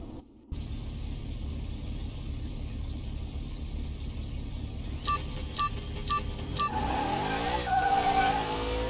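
Race cars in Car Mechanic Simulator 2021 line up against a Dodge Challenger Hellcat: a steady engine drone holds for several seconds, then a string of four sharp start beeps, followed by a rising, wailing engine and tire squeal as the launch begins.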